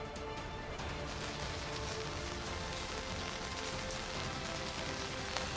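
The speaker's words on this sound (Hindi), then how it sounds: "लाहौर में बारिश का सिलसिला जो है वो जारी है" Heavy rain falls in Lahore after strong winds, a dense, steady patter on surfaces that continues evenly throughout with no voices.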